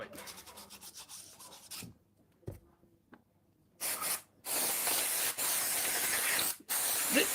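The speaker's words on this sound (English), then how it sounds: "This is brake cleaner." Short bursts of brake cleaner sprayed from an aerosol can onto a greasy handle while degreasing, a loud sustained hiss that cuts off abruptly, preceded by quieter rubbing and scraping.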